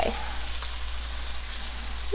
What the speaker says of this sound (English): I love that sizzle though.